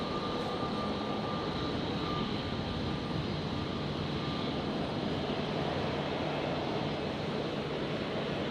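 An Airbus A320neo jet taxis out at Brisbane airport at night, giving a steady, continuous engine rumble and whine that holds at an even level throughout without clear rise or fall.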